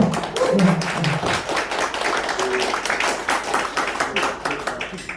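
Audience applause at a Korean lecture on international politics, a dense patter of many hands clapping steadily throughout, with a few brief voices rising over it near the start.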